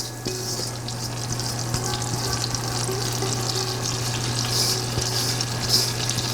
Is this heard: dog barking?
no